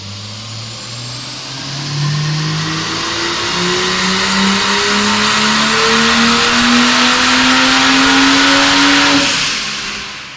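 A turbocharged Ford Falcon engine, converted from naturally aspirated, revs hard under raised boost, its note climbing steadily in one long loud pull before cutting off near the end.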